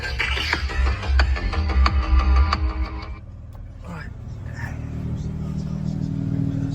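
A Toyota Supra Mk5, reassembled after installation work, idles close by with a deep, rumbling engine note and a few blips of revving. After about three seconds it drops to a lower, quieter hum as the engine winds down.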